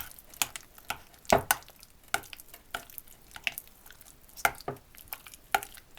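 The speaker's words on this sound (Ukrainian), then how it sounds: "Ретельно вимішать." Sandwich spread being stirred in a bowl, making a series of irregular soft clicks and wet squishing taps, close and fairly quiet with no voices.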